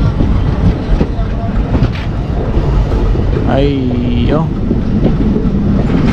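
A diesel train on the non-electrified Madurai to Theni line rumbles and rattles steadily from inside the carriage, a loud continuous roar with a brief rising whine midway, while someone speaks over it.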